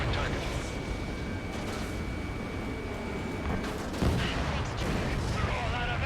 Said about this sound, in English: They already are firing on us.